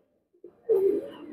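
A single short, low, throaty coo from an Oman teddy pigeon, heard close up after a brief quiet lead-in, with no other sounds around it.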